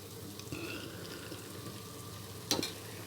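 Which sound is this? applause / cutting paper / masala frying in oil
masala frying in oil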